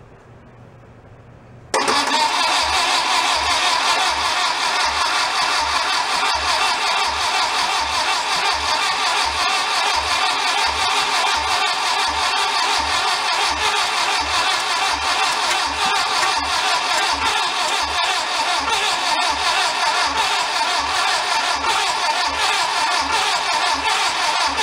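Barn-find VW Beetle engine cranking on a second attempt to start, a long steady loud churning drone with a rapid pulsing beat that begins after a short quiet moment and continues without talk.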